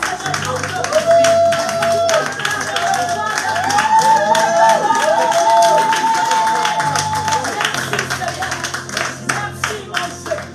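A church congregation at an afternoon Christian service acclaims with dense, steady clapping and sustained raised cheering voices, loud and close, continuing for about ten seconds over a low background hum.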